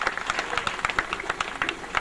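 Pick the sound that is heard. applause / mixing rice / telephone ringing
applause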